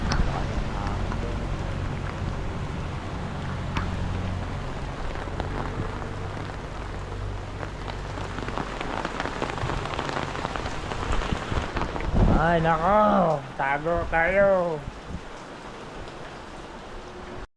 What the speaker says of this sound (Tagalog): baka lalakas pa yung ulan